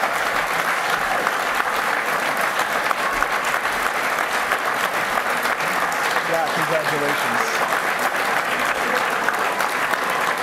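Sustained loud applause from a press conference audience for the Pipistrel USA team led by Jack Langolin, winners of the 2011 NASA Green Flight Challenge. It runs steadily throughout, with a voice briefly speaking over it.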